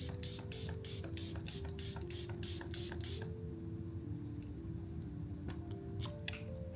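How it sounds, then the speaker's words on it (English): A rapid series of short facial serum spray bursts hisses in quick succession, then stops, leaving quiet background with a couple of faint clicks. "This is the De Alba First Serum Spray."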